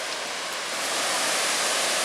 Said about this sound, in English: Boy, this is going to be an amazing waterfall.